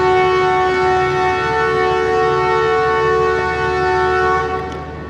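An early-morning passenger train bound toward Sialkot leaves platform 4 at the station, its long steady horn or siren-like tone blaring loud and close for several seconds before easing slightly at the end.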